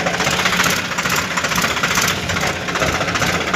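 A Swaraj 744 FE tractor engine labours steadily under a full trailer of sand in medium gear, a loud, continuous diesel drone with rapid knocking pulses and vibration running throughout, no voices.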